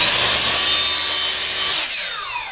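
Power tool cutting slits into PVC pipe, a loud continuous whining grind that drops in pitch and tapers off near the end, heard alone without talk.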